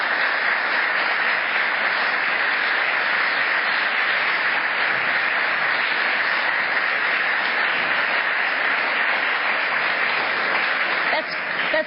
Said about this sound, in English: we never start with applause, so that's for you